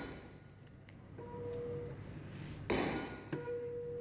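A tuning fork struck with a rubber pad for a sonometer experiment, several soft taps followed by clear, steady ringing tones, with one louder strike near the end that sets the fork ringing again.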